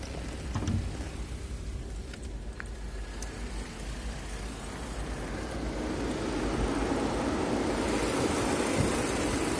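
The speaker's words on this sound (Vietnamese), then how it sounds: "em khởi động động cơ rồi đấy. Động cơ chạy khá là êm, khởi động cực kỳ nhẹ nhàng" A 2010 Audi A4 2.0 turbo idles just after starting, a low steady engine hum with a broad hissy wash building toward the end, heard close with no speech.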